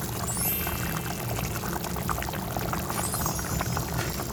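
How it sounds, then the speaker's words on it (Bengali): Rui fish pieces go into a hot pan of oil for rui fish kalia, setting off a loud, steady crackling sizzle that fills the whole moment without any talk. "এবার মাছগুলোকে দিয়ে দেবো।"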